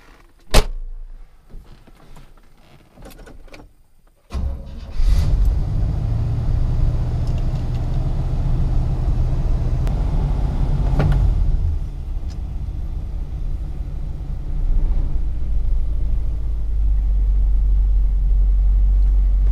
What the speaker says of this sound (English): So we're gonna hop in the Corvette, take it around the block